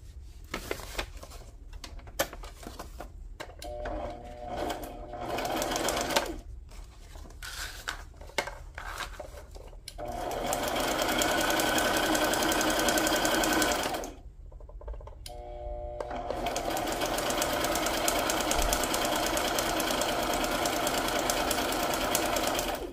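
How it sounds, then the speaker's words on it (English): A sewing machine stitches a tuck into a journal signature, running in steady rhythmic bursts broken by short pauses, close up and loud, with no talking. "I know I want to sew here, and let's do that again as a little tuck."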